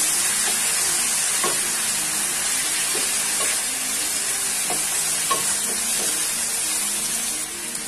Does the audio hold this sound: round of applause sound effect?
no